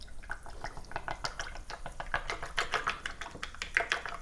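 A spoon stirring chocolate syrup into black cherry cream soda in a glass, giving rapid uneven clinks and light liquid sloshing, close and fairly loud.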